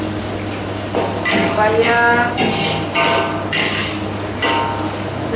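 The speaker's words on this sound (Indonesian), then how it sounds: "Tumis kacang panjang labu kuning ini, kita bumbunya kena betul-betul masak." Long beans and pumpkin stir-fried in a pan, a loud close sizzle with rhythmic scraping strokes of a spatula, while a voice talks over the cooking.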